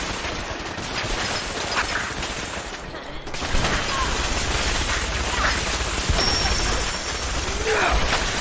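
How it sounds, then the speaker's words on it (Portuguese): Heavy gunfire in the video game Fallout 4, continuous loud bursts of rapid shots and impacts blending into a dense barrage throughout. "Nossa, é muito tiro, velho. É muito tiro, mano."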